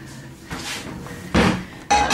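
A lower kitchen drawer is pulled open in a home kitchen, giving short scraping slides and a couple of louder bumps and rattles of cookware inside, close and without talk.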